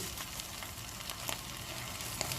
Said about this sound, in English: And the whole spices also gets cooked along with the onion.